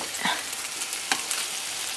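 Swedish meatloaves frying in a pan, a steady dense sizzle with occasional soft pops and crackles, close and continuous throughout.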